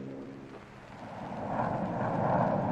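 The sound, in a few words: military aircraft flying overhead in a 1965 USAF Vietnam film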